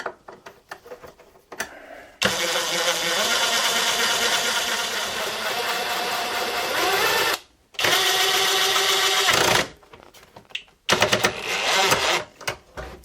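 A cordless power screwdriver drives screws while a kitchen range hood and its casing are installed, with long loud whirring runs broken by short pauses and brief bursts at the end, close and without talk.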